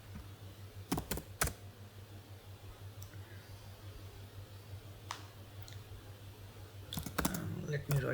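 Scattered keystrokes on a computer keyboard, a few quick clicks near the start and a denser burst near the end, over a steady low hum in a quiet room.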